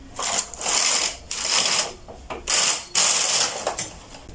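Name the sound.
knitting machine carriage moving with punch card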